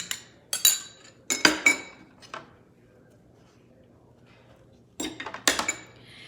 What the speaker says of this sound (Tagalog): So ngayon, magliligpit ako ng kinainan. Hugas plato konti.